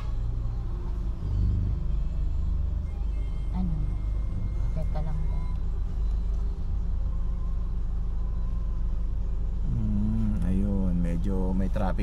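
Road traffic on the way to Viewscape Nature Park: a steady, close, low engine rumble runs throughout, with a voice talking over it near the end.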